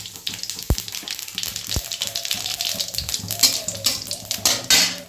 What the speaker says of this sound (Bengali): কড়াইতে তেল দিয়েছি, শুকনো লঙ্কা দিয়ে দিলাম দুটো ছিঁড়ে, একটা তেজপাতা ছিঁড়ে দিলাম, আর একটু গোটা জিরে দিয়ে দিলাম